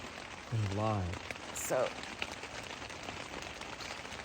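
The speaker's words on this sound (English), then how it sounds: "very windy, and as you can hear, rainy" Rain falls steadily on a windy early morning at a campsite in Algonquin Provincial Park, a constant close hiss of drops that runs the whole time, with a person speaking briefly near the start.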